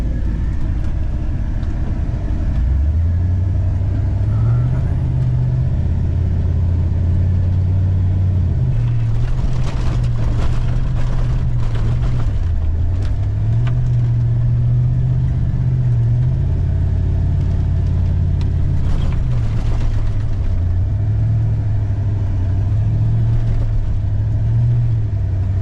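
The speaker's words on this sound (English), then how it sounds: "Got the tow truck here, ready to load it up." A tow truck runs steadily nearby while a car is being loaded, its mid-pitched engine droning loud and continuous, rising and falling slightly as it works, with occasional clanks and rattles over the top.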